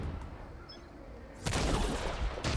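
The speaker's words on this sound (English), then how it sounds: "So let's try the mortar." The mortar skill firing in The Division 2, heard as two loud, close, abrupt blasts over a steady rumbling game background, with no talking.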